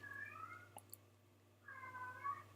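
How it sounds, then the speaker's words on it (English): A cat meows twice, two drawn-out wavering cries separated by a short pause, soft and somewhat distant in a quiet room. "I don't know if you can hear my cat in the background"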